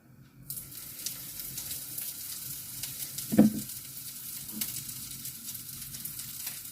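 Continuous frying of liver patties in a well-heated pan, a steady crackling sizzle throughout with a couple of louder pops and light clinks, no voices.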